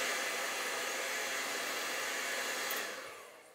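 A hair dryer blows a steady, even rush of air close by to dry acrylic paint on a landscape canvas, then winds down and fades at the end.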